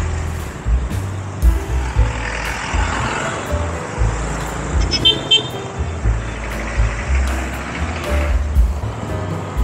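Road traffic heard from a motorcycle on a busy street, with a steady engine drone, wind rumble and a few short horn toots from nearby vehicles, including a motorized tricycle.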